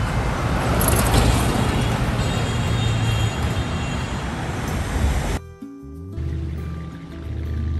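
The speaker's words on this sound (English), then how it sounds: "Mini bus." Mini bus passing on a road, a loud broad traffic roar for several seconds that drops suddenly to a quieter low engine idle.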